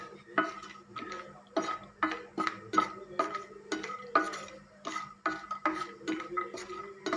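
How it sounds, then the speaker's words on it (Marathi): Cashews stirred and roasted in ghee in a pan while making a mango jam, with a steady run of about a dozen scraping, clinking spoon strokes against the metal, close and fairly loud. "हे तुपामध्ये मी हे काजू तूप परतवून घेते काजू छान परतवून घ्यायचे"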